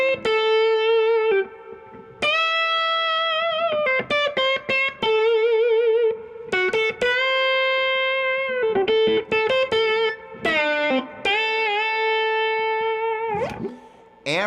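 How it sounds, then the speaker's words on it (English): An electric guitar plays through amplifiers with tube-driven reverb. Sustained notes and chords ring out one after another, some clipped short and others left to decay into a reverberant tail, with brief gaps between them. "you can hear I've got some reverb on these amps, and a tube-driven"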